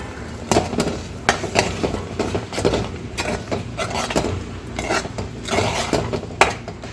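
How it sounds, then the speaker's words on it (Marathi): Tomatoes and capsicum sautéed in a pan for a capsicum bhaji, with repeated clinks and scrapes of a utensil against the pan over a low sizzle, fairly close and in uneven bursts. "आता याला परतून घ्यायचं आहे दोन मिनटं"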